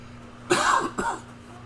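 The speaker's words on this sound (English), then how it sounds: "Sorry for the coughing." A person in a woodworking shop coughs twice in quick succession, close to the microphone over a low background hum.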